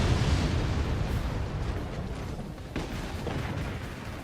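Rockets blasting mines in the strategy game Forts make a dense, continuous roar of explosions, rumbling and booming throughout with a few sharper bursts near the end.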